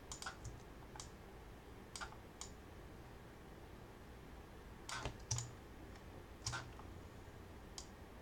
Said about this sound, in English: I'm using spacebar to kind of navigate